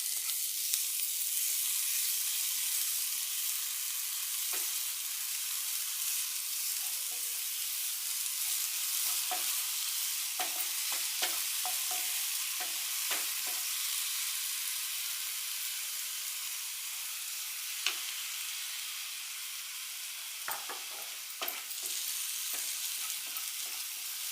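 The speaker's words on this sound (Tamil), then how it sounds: "லைட்டாக வதக்கிட்டு அது கூட நம்ம வடிகட்டி வச்சுருக்கிற வெள்ளைப்பாகை சேர்த்துக்கலாம்" Grated coconut sautéing in a pan with jaggery syrup for kozhukattai filling: a steady, bright sizzle and hiss lasting throughout, with occasional soft spoon scrapes and stirring taps, close-up, no voices.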